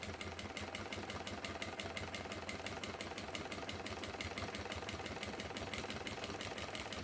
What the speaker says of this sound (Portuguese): A minha máquina é o transporte duplo, mas qualquer máquina consegue costurar esse pouquinho de camada aqui.